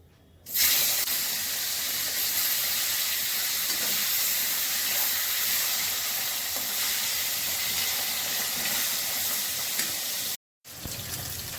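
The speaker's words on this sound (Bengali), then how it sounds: "প্রথমেই আমি মাছগুলো ভেজে নিচ্ছি" Rohu fish pieces frying in mustard oil in a home kitchen pan give a loud, steady sizzle, close and alone, with a brief cut near the end.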